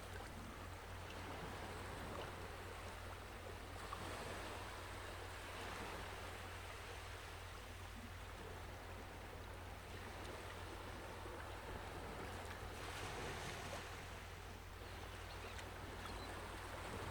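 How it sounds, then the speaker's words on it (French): Steady, faint wash of ocean surf and rushing water on a beach, a continuous roar with no voices. "je vois les vagues, les remous"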